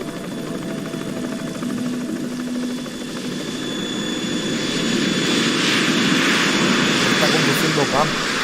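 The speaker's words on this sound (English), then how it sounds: "We're in trouble. It's the Harrier." Harrier jet aircraft in the video game Metal Gear Solid 2, a steady roaring engine drone that grows louder over the clip, mixed with game sound and speech.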